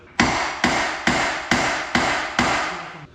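A hammer striking a car's ball joint to free it during suspension work: six sharp metallic taps at an even, unhurried pace, each ringing briefly, close and loud with no talking.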